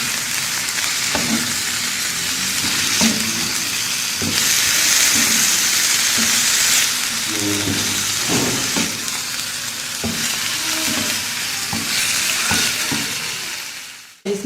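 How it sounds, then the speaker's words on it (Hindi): Green chillies frying in a pan for a chicken and capsicum curry, giving a continuous loud sizzle and hiss with intermittent stirring clanks, swelling louder midway before cutting off at the end. "इसके साथ ही ग्रीन चिली डालेंगे। तो थोड़ा सा 2 मिनट कुक करेंगे।"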